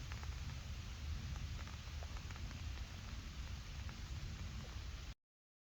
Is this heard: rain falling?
yes